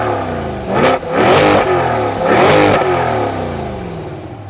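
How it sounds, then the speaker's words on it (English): A used Chevrolet Corvette with active exhaust revs twice in quick succession, each loud, close blip of the engine rising sharply and falling away, with a steady idle rumble between and after. "see if this active exhaust is still working"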